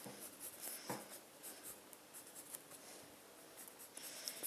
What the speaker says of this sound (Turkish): Kendi ellerimle çiziyorum şu an.